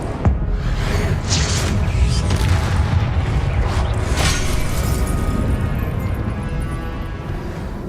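Incendio fire spell blasting in Hogwarts Legacy, a dense roaring burst of flame with booming low rumble, opening with a sharp crack and sustained loud crackling throughout.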